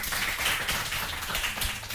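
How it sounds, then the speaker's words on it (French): Steady applause from a TV quiz show studio audience, dense overlapping claps filling the whole stretch at even loudness. "On l'applaudit s'il vous plaît."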